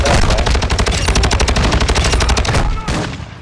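Rapid automatic gunfire in Call of Duty: Modern Warfare II, loud and dense, with bursts of shots in quick rhythmic succession that ease off slightly toward the end.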